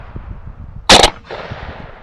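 A single loud, sharp shotgun blast at a dove hunt, fired from a Benelli or a Mossberg youth pump on opening day, close and abrupt, with a short echo trailing off over quiet outdoor background.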